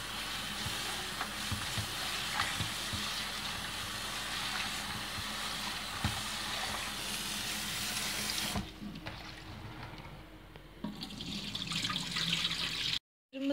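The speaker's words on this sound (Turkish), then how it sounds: "Güzelce de yıkayacağız." Running water pours steadily with splashing and rustling as black cabbage is rinsed, then the flow drops briefly before resuming and cutting off abruptly.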